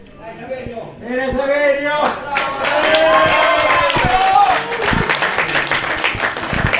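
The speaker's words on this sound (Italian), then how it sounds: "Raccoglie applausi" A crowd at a football match between Palizzi and Monasterace applauds, a loud, sustained wash of clapping that swells and holds for several seconds. A commentator's voice runs under it at the start.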